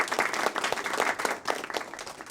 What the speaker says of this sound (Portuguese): Qual peço uma calorosa salva de palmas